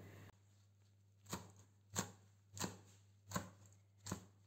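A knife roughly chops zucchini on a board, about five distinct, fairly evenly spaced thuds, close and clear over a quiet low hum, with no talking.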